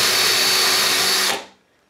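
A Ryobi 18V ONE+ 1/2-inch hammer drill bores into wood with a loud, steady whine, running continuously for over a second before cutting off and spinning down into silence.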